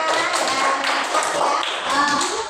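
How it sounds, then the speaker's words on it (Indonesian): A classroom full of students claps for a group of classmates: dense, steady applause that carries on through the whole stretch, with some voices mixed in. "tepuk tangan dulu buat kelompoknya ya"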